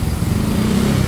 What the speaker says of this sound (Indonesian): Motor borapan enggak nyangka bisa seperti ini suaranya